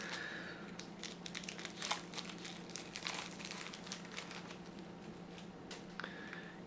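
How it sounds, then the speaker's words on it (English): Shrink wrap being peeled off a tarot deck box: faint, close crinkling and rustling of thin plastic in irregular bursts, with no talk. "Okay, so the shrink wrap is off."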